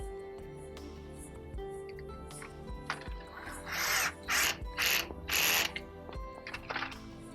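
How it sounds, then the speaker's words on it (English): A final screw driven in to secure a housing, with ratcheting, clicking driver bursts over a constant mechanical hum, close by, growing louder in short pulses toward the end. "And we just secure it with that final screw."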